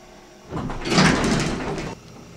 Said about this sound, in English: Well, that's a slow door.